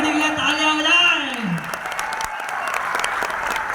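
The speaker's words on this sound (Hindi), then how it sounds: "एक बार पंजाब कम्युनिटी के लिए तालियां हो जाए" Audience applause for the Punjab community at an event, a crowd clapping steadily after a voice trails off, with scattered sharp claps and general noise carrying on throughout.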